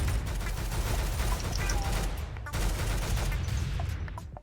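Rapid automatic gunfire in the Roblox game Arsenal, dense sustained bursts with a brief break midway, loud and continuous with mechanical clatter.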